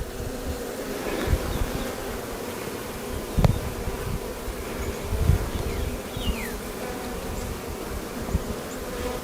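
Honeybees hum steadily around hive frames where comb is being drawn, a close, continuous buzz with occasional louder individual bees passing near.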